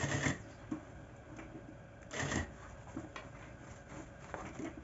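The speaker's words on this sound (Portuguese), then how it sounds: "E costurando bem em cima da costura." A sewing machine stitches along a fabric seam during the making of a cloth bag. It is fairly quiet, with short whirring runs of stitching at the start and again near the middle, separated by a low, steady background.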